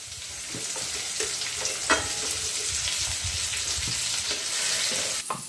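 Chopped onion with ginger, garlic and cumin frying in hot oil in a pan for a dhaba-style garlic fenugreek dish, a steady close sizzle with occasional stirring scrapes and no talk.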